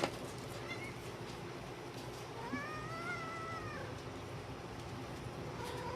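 A pet cat meows indoors, producing a drawn-out, fairly close meow in the middle and a brief chirp at the end over a steady background hum.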